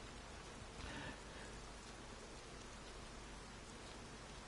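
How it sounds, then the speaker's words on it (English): Steady rainfall in the video game Horizon Zero Dawn, an even, dense patter of rain heard alone with no voices. "You notice it is raining."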